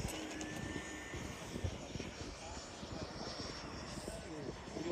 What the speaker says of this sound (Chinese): 等下全油门吹一下。